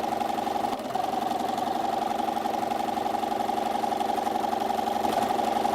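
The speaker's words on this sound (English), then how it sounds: "and continue to sew." A sewing machine stitches patchwork fabric pieces at a quarter-inch seam, a close, steady mechanical whir with a constant rapid chatter that runs without pause and has no voices over it.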